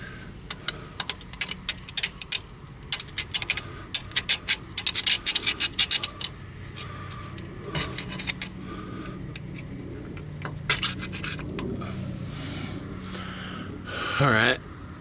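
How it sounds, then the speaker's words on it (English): A screwdriver scrapes and picks at crud inside the wheel hub assembly of a 2008 Chevy Trailblazer, giving close, irregular scratching and clicking bursts. Someone talks intermittently over the work. "I want to take a screwdriver and see if I can't break some of that crud loose in there."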